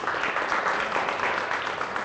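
Church congregation applauding the worship team during a service, a continuous wash of many hands clapping, steady and moderately loud throughout.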